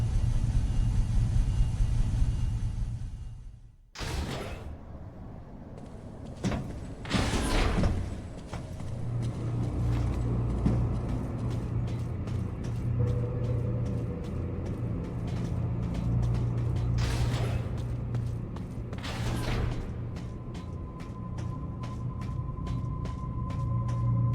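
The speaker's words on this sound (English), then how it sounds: "This elevator is bound for Sector 1." Elevator moving in the video game Metroid Other M, a steady low mechanical rumble and hum that persists after a few loud bursts near the start, with faint repeated clicks over the drone.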